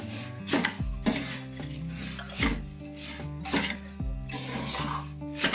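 Laddu mixture is stirred quickly in a metal pan on a low gas flame, the spoon scraping and knocking against the pan in repeated close strokes, with ringing metallic clanks and no talk.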